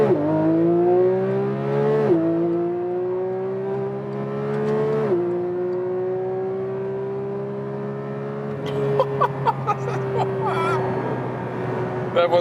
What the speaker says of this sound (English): So we start from 30 kilometers an hour in the track mode and let's see how fast it goes.